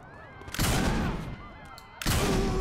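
Gunfire roars in Saints Row 4 during PS5 play, two loud sustained blasts of shooting with a short quieter stretch between them, along with game sound effects.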